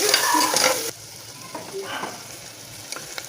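Onions and green chillies fry in a pan with a loud stirring scrape and sizzle at first, then a quieter sizzle with a few light clinks, close up and with no voice.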